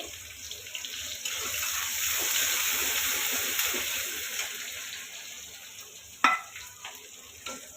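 Onions added to hot oil in a wok for a koi fish curry, giving a strong rushing sizzle that settles into a steady hiss, with a sharp clatter of utensil contact near the end; close, no voices.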